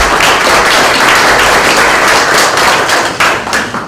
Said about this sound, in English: Let's give them a big round of applause so far through this first segment.